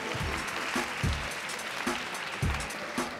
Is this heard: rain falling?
no